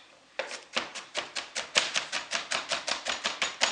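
Onion being chopped into small pieces on a cutting board, a steady run of about fifteen crisp knife taps in quick, even rhythm, close and clear with no talking.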